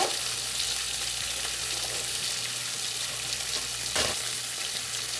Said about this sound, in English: while our bacon's cooking